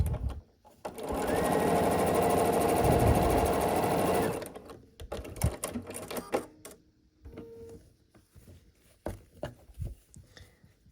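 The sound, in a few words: sewing machine sewing a pumpkin piece onto a quilt block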